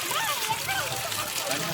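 Water gushes steadily from the outlet of a solar-powered water pump motor, a continuous close splashing flow while a person talks over it.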